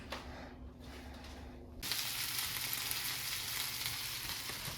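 Potatoes browning in a hot pan on the stove for cowboy hash, starting quietly and then breaking into a loud, steady sizzle partway through that carries on without talk.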